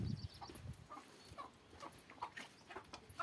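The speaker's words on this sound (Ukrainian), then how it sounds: "Покажу вам, як я кури ганяю" Chickens clucking and squawking as they are chased around a country garden plot, scattered short calls near and far, with light rustling between them.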